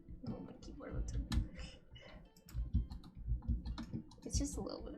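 Computer keyboard keys clicking in quick, irregular bursts while a person plays a hardcore survival game, mixed with frequent nearby speech and game sounds.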